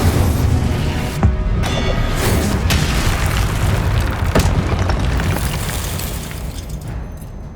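Spell blasts going off in the Hogwarts Legacy video game: a run of heavy booming explosions with crackling fiery bursts, rolling one into another, loud and close, with several sharper impacts standing out.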